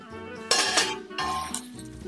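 A metal lid is set onto a pan of salted onions cooking for chicken liver fry, giving a couple of bright clanks and clinks over a steady low hum, close and fairly quiet.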